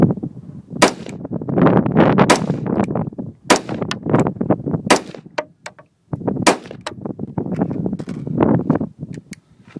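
A 5.56 rifle with a 16-inch barrel and a Surefire suppressor fires five rounds, each a sharp, close, loud crack spaced irregularly about a second or two apart, with muffled room noise and movement between shots.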